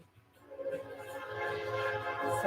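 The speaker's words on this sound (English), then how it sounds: "windows open, man, so you could really hear that train" A passing train is heard through open windows. A muffled rumble swells from quiet to louder, with horn-like tones sounding in the distance.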